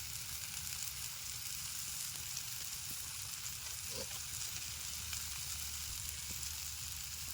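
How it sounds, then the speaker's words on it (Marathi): Onion, tomato and turmeric sizzle steadily in a pan over a campfire in a rainy forest, a constant broad frying hiss with a low rumble beneath and one brief soft knock midway, no talking. "कांदा आणि टोमॅटो भाजला, आता हळद टाकते जरा"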